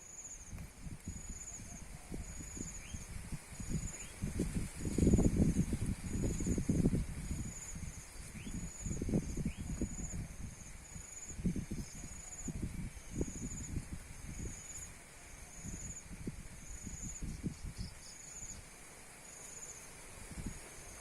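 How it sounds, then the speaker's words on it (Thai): Gusty wind buffeting and rumbling in uneven bursts, with a faint steady insect trill high above. "เสียงลมแรงครับ ลมแรงมากเลยครับ"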